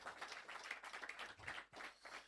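An audience at a hackathon grand finale claps for an introduced executive, the applause fairly faint and distant, pulsing unevenly throughout.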